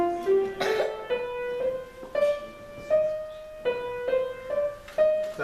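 A scale played in the Lydian mode, ascending note by note in a slow even rhythm, each tone struck and ringing briefly, close and clear, with a soft cough-like noise near the start and no talk.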